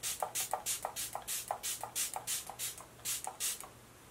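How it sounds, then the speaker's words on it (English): A makeup setting spray bottle is pumped about a dozen times in quick succession, each short hissing mist burst close and crisp in a steady rhythm. "the new MAC Prep and Prime, the spray here, or the Fix Plus"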